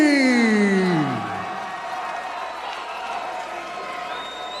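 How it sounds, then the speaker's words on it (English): A descending whistle-like tone fades, leaving a steady distant roar of a large crowd cheering and murmuring at a combat sports fight night. "Quinn Murphy definitely has the crowd on his side."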